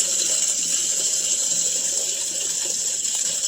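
Steady rushing water flows continuously through a new washing machine water inlet valve, loud and close, with an even hiss and no pauses.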